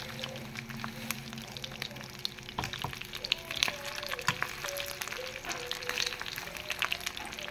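Smoked tinapa fish frying in a pan, a steady crackling sizzle with bursts of popping oil and occasional stirring, close up, with no voices over it.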